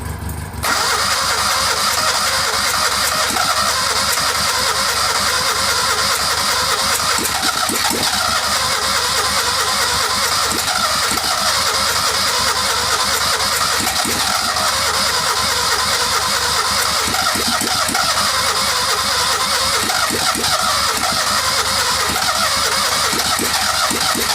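A Citroën 2CV engine cranks and labours heavily while starting, running roughly at a loud, steady pitch for a long stretch without easing.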